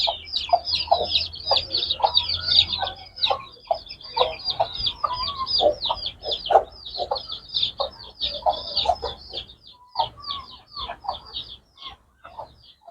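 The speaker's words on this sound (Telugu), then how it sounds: "చూడండి మన దగ్గర ఉండే పెట్టలు" A flock of hens clucks and chatters nearby, with many overlapping sharp calls coming in quick irregular bursts, loud at first and thinning toward the end.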